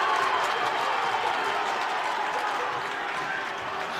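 A crowd at a high school boys' basketball game reacts after an offensive foul call with a steady wash of applause and cheering that fills the gym and eases slightly toward the end.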